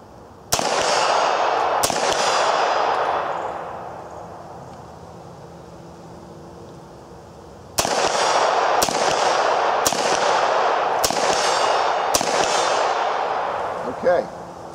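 An MP5 fires in semi-auto: two sharp, loud shots with ringing echoes, a pause, then five more single reports at a steady, roughly one-second pace.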